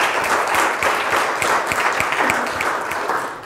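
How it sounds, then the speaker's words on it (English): An audience in a lecture room gives a final round of applause at the end of a talk on monitoring plant seasonality from space; the clapping is close, dense and steady, and it tapers off slightly at the end. "Let's give Dr. Gao a final round of applause."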